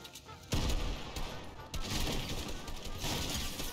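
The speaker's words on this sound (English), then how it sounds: "We're being shot at." Quick rattling gunfire crackles in a Fortnite match, a sudden burst followed by more shots amid dense game noise, fairly quiet overall.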